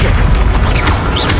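A booming spell blast from the Confringo curse in Hogwarts Legacy, a loud, dense explosive roar that fills the whole moment with low rumble and crackling bursts.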